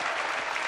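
A studio audience at a French television variety show gives a brief burst of dense applause for Sacha Distel, loud and filling the moment without speech.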